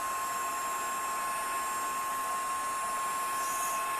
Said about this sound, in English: I'm going to bring in my heat tool and let that heat up for a few seconds.